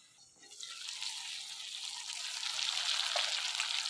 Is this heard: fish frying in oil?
yes